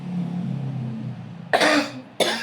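Two harsh coughs ring out close by, a longer one followed by a short second burst, after a low background hum.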